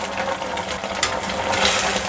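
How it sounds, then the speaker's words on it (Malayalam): Half a glass of water pours into a pan of veg Manchurian sauce, a close, steady splashing gush lasting about two seconds that grows slightly louder toward the end. "ഒരു 1/2 ഗ്ലാസ് വെള്ളം ഒഴിച്ചു കൊടുക്കുക"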